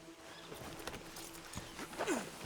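Horse hooves clip-clopping in the video game Red Dead Redemption 2: a few soft, close hoof strikes over a low ambient background, with a brief horse snort or whinny near the end.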